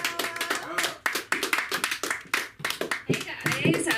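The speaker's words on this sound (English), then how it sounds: "give a warm round of applause for Jessica Gutierrez" Comedy open mic audience applauding as a comic is brought on, bursts of clapping and cheering mixed with an emcee's voice talking over it.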